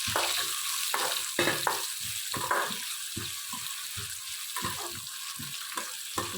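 Chopped tomato and green chillies fry in a pan for upma, a soft continuous sizzle with repeated scraping and stirring strokes, fairly quiet and close, with no talking.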